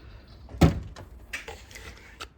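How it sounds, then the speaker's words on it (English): Kitchen fridge door opened, a sharp thump followed by faint rattles and soft clicks, close and fairly quiet with no talk. "Open the fridge."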